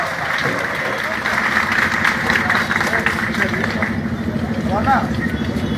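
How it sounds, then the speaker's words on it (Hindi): Crowd applause at a Peace Party political rally in Deoria, a sustained rumbling wash of clapping mixed with a voice talking through it over a noisy outdoor background. "बिला ताखीर जोरदार तालियों से इस्तेमाल करें"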